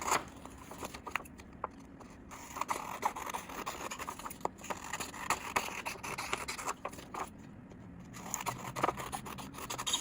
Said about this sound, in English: I'm going to use the scissors and cut along this, all the border. We are going to trim.